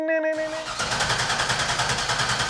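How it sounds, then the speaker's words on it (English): Engine of a C5 Corvette cranks and catches during a battery test, a brief starter burst giving way to a steady, loud running hum that fills the rest of the moment. "go back and do that engine cranking test we did just a few minutes ago"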